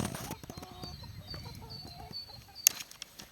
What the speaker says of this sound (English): Now these are young chickens we got recently